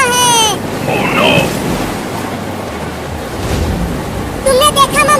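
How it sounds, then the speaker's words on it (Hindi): Steady rushing flood water in a cartoon village, a broad continuous roar throughout, with voices and squeaky cartoon sounds breaking in at the start and end. "गांव में बाढ़ आने वाला है।"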